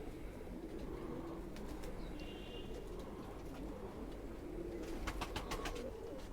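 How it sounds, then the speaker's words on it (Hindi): Khaki pigeon cooing in a loft, repeated low soft coos over a steady background murmur, with a few faint chirps and brief higher bird calls near the end. "ये है जी कंप्लीट कबूतर।"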